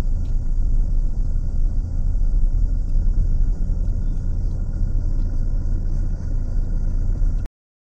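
A car's engine rumbles steadily at close range for several seconds as it pulls into a paid parking area at the Orchid Research Centre in Bhalukpong, Arunachal, with a low, even drone and no voices.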